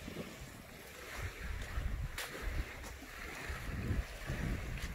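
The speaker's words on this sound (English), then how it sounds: "And here's the beach." Waves wash onto a beach on Samal Island, a rolling surf swell rising and falling beneath steady wind buffeting the microphone.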